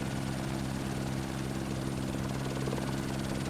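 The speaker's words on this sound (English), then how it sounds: "it's gonna clip my freaking helicopter and send me to the ground or something" Helicopter flying in the video game No One Survived, a steady close rotor drone with a continuous mechanical buzz and hum, unbroken throughout with no talk.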